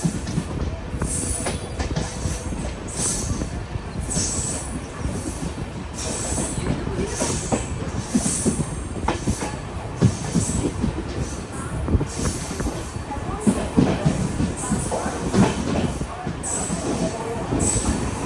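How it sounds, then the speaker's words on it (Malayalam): Kannur–KSR Bengaluru Express with LHB coaches pulls into Nileshwaram station, a loud, steady rumble of rolling stock with squealing wheels and rhythmic clatter throughout. "ട്രെയിൻ ഇതാ നീലേശ്വരം സ്റ്റേഷനിലേക്ക് എത്തിയിരിക്കുകയാണ്"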